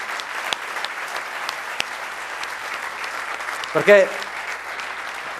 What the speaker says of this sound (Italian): Mi fate un applauso alla struttura FVG Sport Channel?